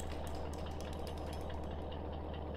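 A truck engine in the off-road game Spintires runs with a steady low rumble and a rapid knocking pulse, loud and constant throughout.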